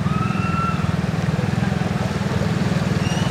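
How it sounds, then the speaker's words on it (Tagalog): Motorcycle riding through a flooded street in Macabebe, Pampanga during heavy rain and high tide, its engine putting steadily and close with a rapid low pulse, no talking. "O yan yung motor ni Brother Francie makasalubong natin."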